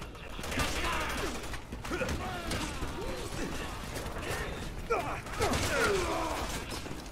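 Rapid gunfire bursts crackle through a co-op Resident Evil 6 shootout, with repeated shots and mechanical clatter running under excited voices speaking over the action.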